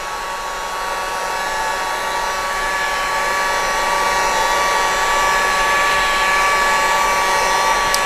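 An old Craftsman industrial heat gun on low heat blows with a constant, close whooshing hiss that holds steady and grows slightly louder.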